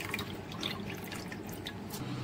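Raw white rice is stirred and washed in a bowl of water, with a continuous close sloshing and trickling, soft and steady.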